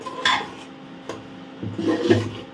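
Tempered spices for khichdi stirred in a pan with a utensil, giving a few scraping, clinking strokes near the start and a busier stretch of stirring toward the end, close and moderately quiet with no talk.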